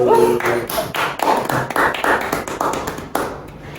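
A group claps together in a classroom or counseling session, a dense run of sharp, closely spaced hand claps that carries strongly for about three seconds before tapering off.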